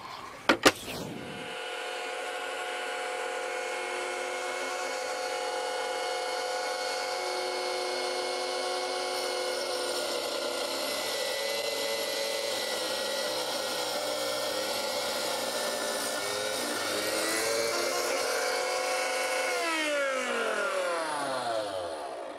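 A steady, loud electric tile cutter whine runs continuously for over twenty seconds as it cuts porcelain tile, pitch shifting slightly as the blade works, then winding down at the end.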